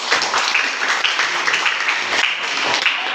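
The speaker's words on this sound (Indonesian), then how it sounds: "tepuk tangan untuk kelompok 1" Classmates applaud a student group during a classroom presentation session, a continuous fairly loud wash of many hands clapping with uneven bursts, no voices standing out.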